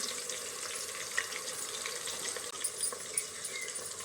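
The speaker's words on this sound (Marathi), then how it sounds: "आपली आल्या लसूण पेस्ट आपण पूर्णपणे भाजून घेऊया" Ginger-garlic paste fries in a pan for a fish curry, a steady, close, hissing sizzle with small spatters, no talking over it.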